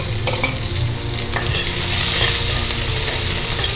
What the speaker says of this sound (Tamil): பாருங்க எண்ணெய் காஞ்சிடுத்து. ஜீரகம் தாளிச்சிக்கலாம்